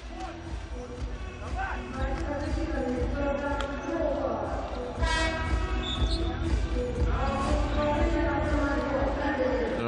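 At a EuroCup professional basketball game, a referee's whistle cuts through the arena noise with a piercing blast near the middle, heard over constant crowd roar, bouncing balls and squeaking shoes.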